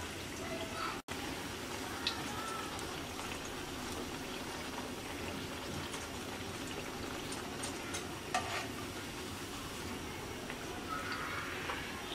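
Bread slices fry in oil until brown, giving a soft continuous sizzle with faint bubbling and a few light clinks, fairly quiet and steady throughout.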